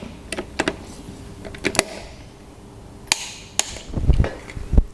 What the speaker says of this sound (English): We've got them all torqued up to the right spec now.